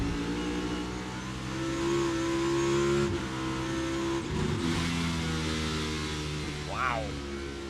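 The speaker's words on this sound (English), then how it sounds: "you could definitely hear the engine rev" A NASCAR Cup stock car engine at Richmond Raceway revs sharply after a downshift, rising harmonics climbing and falling with a brief surge mid-clip, heard loud and continuous over broadcast crowd background.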